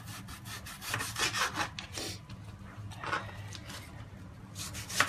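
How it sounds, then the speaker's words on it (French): A knife chops onions on a cutting board for msouki, giving quick, close, uneven strokes with no talk over them. "je découpe mes oignons"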